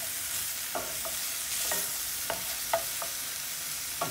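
Granny Smith apples sauté in a cast iron skillet with a steady, close hiss of frying. Light spatula taps and scrapes recur every half second or so, with no talking.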